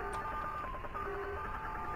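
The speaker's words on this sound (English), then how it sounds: "It's gotta be the phone" A telephone tone in the horror video game Linger, a steady electronic tone with faint pulsing, heard alone at moderate loudness.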